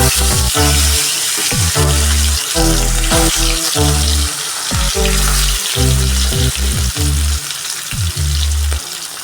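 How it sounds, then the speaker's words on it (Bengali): Fish pieces rubbed with salt and turmeric sizzle loudly in hot oil in a wok, a steady close crackle with bursts of splattering and stirring for a light fish broth, no voices. "কড়াইতে তেল গরম হয়ে গেছে এবার এক এক করে মাছগুলো ছেড়ে দেবো"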